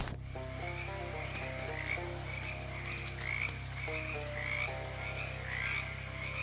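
Frogs croak in a repeated, rhythmic chorus in the video game Shadows Over Loathing, steady and moderately loud over a low background hum, with no talking.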